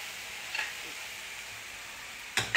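Red cabbage salad ingredients cook in a pan with a faint, continuous sizzle, punctuated by a couple of short utensil clicks and a louder clatter near the end.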